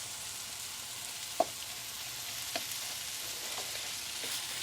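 Chicken curry sizzles in oil in a pan, a steady faint hiss broken by a few light clicks of stirring, with no talking.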